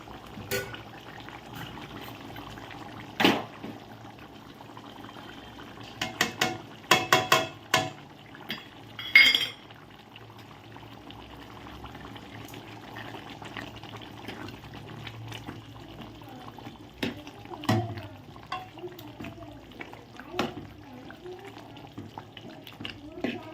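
Masala goes into a pan of mutton curry cooking at home. The pot simmers and bubbles steadily, with several sharp clatters of a utensil against it along the way.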